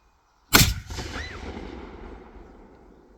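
Historic musket volley fired at Fort Necessity National Battlefield: a single loud, sharp blast after a moment of silence, followed by a long rumbling echo that fades away outdoors.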